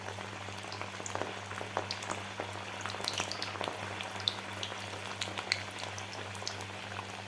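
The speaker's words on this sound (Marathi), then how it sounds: "तेल आपलं गरम झालेलं आहे तर यामध्ये आता आपल्याला एक एक करून पत्तागोबीच्या वड्या तळून घ्यायच्या आहेत" Cabbage vadas deep frying in hot oil, a faint steady bubbling fizz with scattered small pops over a low constant hum, no voices.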